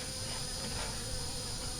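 Steady, low insect-like hum of bees crawling and buzzing around inside an open hive box, a continuous close drone with no voices.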